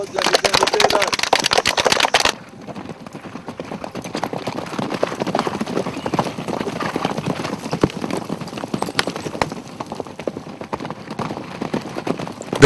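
Steady clip-clop of military cadets' horses' hooves on hard ground, many overlapping beats in a brisk rhythm, louder at first then continuing at a moderate level.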